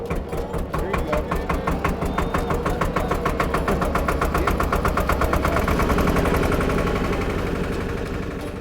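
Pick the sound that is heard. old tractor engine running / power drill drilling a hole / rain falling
old tractor engine running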